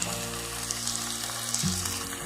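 Chopped garlic sizzles in hot oil in a pan while a fish curry is being cooked, making an even, continuous close frying hiss with a faint steady hum underneath.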